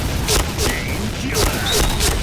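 Another blast amid gunfire in Point Blank, the first-person shooter, with a couple of sharp bursts standing out over continuous battle noise and a player speaking over it.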